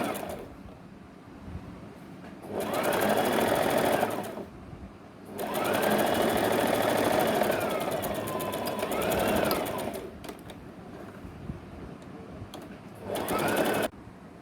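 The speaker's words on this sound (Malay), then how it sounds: "Okey, kita dah boleh mula menjahit sekarang." A sewing machine stitches fabric for a mask connector in three bursts of rapid, rattling needle strokes, the middle run longest, separated by short quiet pauses.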